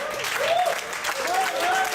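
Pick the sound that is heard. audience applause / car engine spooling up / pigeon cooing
audience applause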